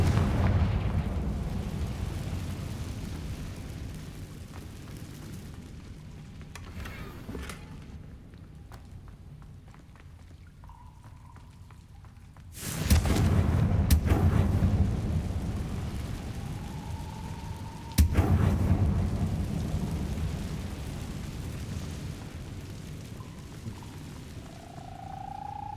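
Confringo fire spell explosions in the video game Hogwarts Legacy, two heavy sudden booms that each roll into a long roaring rumble, loud and close over a low continuous game ambience, no voices.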